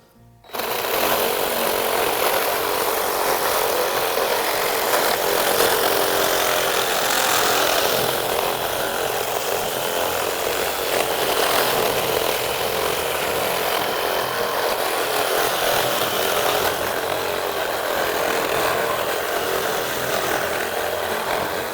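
A saw cuts steadily through a deer skull to separate the antlers, a continuous loud grinding rasp that runs without pause for around twenty seconds with no talking.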